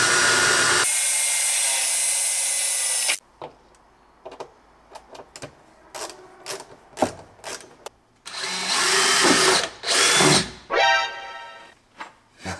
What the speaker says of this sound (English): I've just drilled right where I marked out where there's a hole